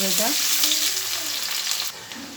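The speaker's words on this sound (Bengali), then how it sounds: "এবার দিয়ে দেবো পেঁয়াজ কুচানোটা" Chopped onions sizzle loudly and evenly in a pan of oil for a ghugni of peas and potatoes, with light stirring throughout and a brief drop in level near the end.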